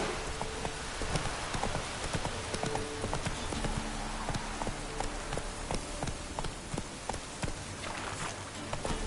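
Roach the horse gallops with rapid, steady hoofbeats in a game setting, clip-clops running continuously and fairly close over a faint hiss like rain, without talking.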